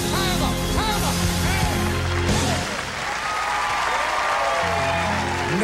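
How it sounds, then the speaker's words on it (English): An audience at a Tony Orlando & Dawn show cheers and applauds in a loud crowd roar with whoops and whistles. It dips briefly after two seconds, then swells again. "now the whole damn world is cheering"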